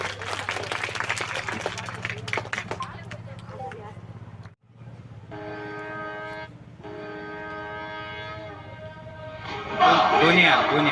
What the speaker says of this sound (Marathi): सर्वांनी त्याच्यासाठी टाळ्या वाजवाव्या.